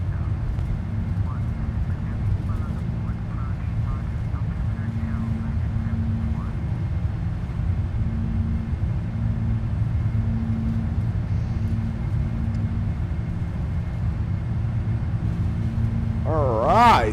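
Steady low rumble of a PMDG Boeing 747-400 (747-4H6) during takeoff from Kuala Lumpur in the Prepar3D flight simulator, holding an even level throughout with a brief rise at the very end.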